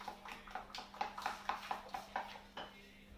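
A whisk beats lemon cake batter in a bowl with quick, rhythmic taps and scrapes, about a dozen strokes in a few seconds, close but fairly quiet over a low steady hum.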